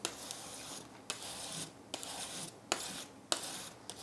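A squeegee is wiped over adhesive film on a simple workpiece, making a series of close, soft rubbing swipes at a steady, unhurried rhythm with no talk.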